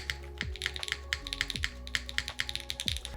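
Rapid typing on a Lila 60% mechanical keyboard, a steady run of crisp, close key clacks with occasional heavier thocks, recorded alone without talk.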